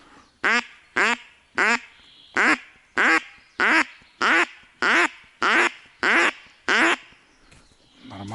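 Duck call lure blown during a duck hunt in imitation of a mallard hen: about a dozen loud, evenly spaced nasal quacks in a steady rhythm, close and clear, with no talking.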